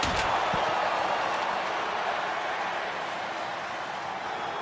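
Video game wrestling crowd in WWE 2K25, a dense, steady roar of arena voices that holds at an even loudness throughout, with a brief low thump near the start.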